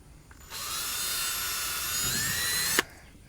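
A power drill drives a screw raw, without a pilot hole, into a Lifetime Manta Angler kayak: a steady high whirring burst of about two seconds that ends with a sharp click as the screw seats.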